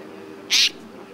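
A striped wild cat cub lets out a single short, high-pitched mew, sharp and close, over an otherwise quiet background.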